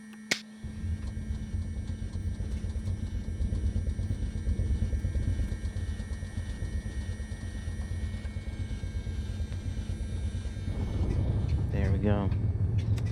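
An aircraft engine in the flight simulator X-Plane 12 starts after a sharp ignition click, settling into a loud, steady rumbling drone that swells near the end while a voice speaks briefly over it.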